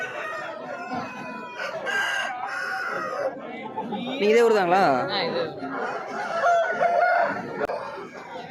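Roosters crow loudly amid clucking fowl at a busy rooster market, with people talking over the birds.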